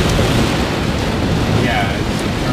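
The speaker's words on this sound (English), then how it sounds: "it's turned into a very nice downpour" Heavy rain pours down in a steady, dense hiss near a large church, loud and continuous throughout with no clear breaks.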